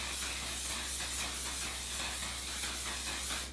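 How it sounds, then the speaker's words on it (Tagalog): Makeup setting spray misted from a bottle as the last step of a summer makeup routine, a steady close hiss that runs unbroken for several seconds with no talking. "And then final, setting spray."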